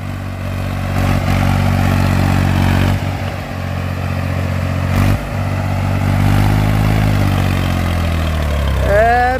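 A Swaraj 735 FE tractor engine rumbles and idles loud and close with a throaty, uneven exhaust note, rising slightly toward the end, as a voice speaks over it.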